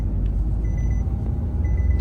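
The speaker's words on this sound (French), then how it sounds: "Donc le petit bip, hein, c'est juste la ceinture du caméraman qui est à l'arrière." Renault Clio V 1.0 TCe 100 hp cabin with the unfastened rear seatbelt alarm: steady, evenly spaced electronic beeps repeating over the heavy low drone of the car driving.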